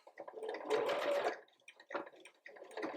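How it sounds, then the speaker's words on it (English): A sewing machine stitches slowly along fabric pieces for a stuffed elephant toy, giving a steady whirring run that stops and then starts again in two shorter bursts, close and fairly quiet. "just stitch all the way along"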